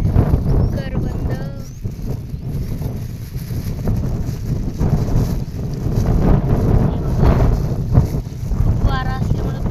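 Wind buffets the microphone outdoors on an open plot, a steady low rumbling roar with gusty swells throughout, with a few faint bird chirps breaking through.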